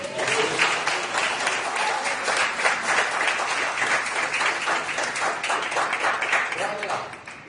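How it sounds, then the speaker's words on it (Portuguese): A church congregation applauds together, steady dense clapping from many hands that holds throughout and fades slightly at the end. "Você pode aplaudir uma igreja?"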